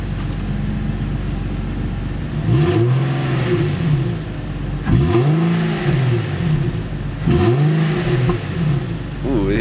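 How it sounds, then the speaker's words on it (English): Infiniti G37 with a budget aftermarket exhaust revved three times, each rev a loud rising then falling roar separated by idle, with a little popping on the throttle release. "Want to do some revs?"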